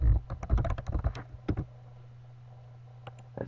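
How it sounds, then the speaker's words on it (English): Fast typing on a computer keyboard while writing Excel VBA code: a quick run of close, crisp key clicks, a short pause, then a few scattered keystrokes over a low steady hum. "So let's just type final string."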